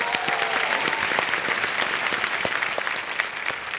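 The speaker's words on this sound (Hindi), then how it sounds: "तालियों के साथ इनका स्वागत।" Sustained applause from the studio audience of the Indian TV quiz show Kaun Banega Crorepati, dense and even throughout, with no one speaking over it.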